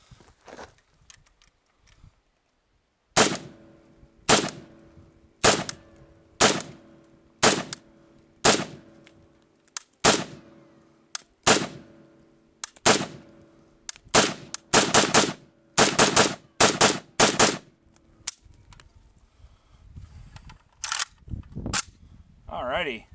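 An AK rifle with Magpul furniture and an ALG Defense AKT trigger fires Brown Bear 7.62x39 ammunition: about a dozen loud, close single shots at a steady pace, then a quicker run of shots near the end.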